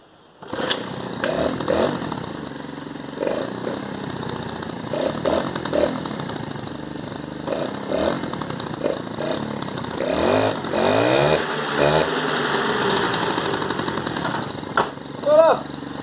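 A stunt motorcycle engine idles and revs repeatedly, its pitch rising and falling in a rough buzzing drone, while someone talks over it nearby.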